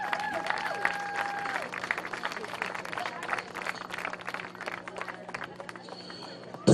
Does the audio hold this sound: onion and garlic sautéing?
no